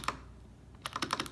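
Typing on a TG3 KBA-nBLTA mechanical keyboard fitted with Cherry MX Black switches and ABS keycaps: a brief, close burst of clacky keystrokes, one stroke followed by a pause and then a quick run of presses, with no talking.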